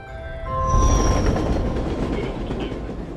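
A moving train in the film The Bone Temple: a rolling rumble of wheels on rails with rhythmic clatter, swelling loud after a brief tonal hum and holding steady, with no talk.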